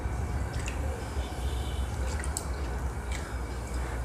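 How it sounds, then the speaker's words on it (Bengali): Red lentils being rubbed and washed by hand in a bowl of water for a mashed lentil dish, giving a steady wet squishing and dripping texture throughout, fairly quiet and close, with no talk. "ডালের মধ্যে কিন্তু প্রচুর নোংরা থাকে, তাই হাত দিয়ে ভালো করে ডলে ধুয়ে নিতে হবে।"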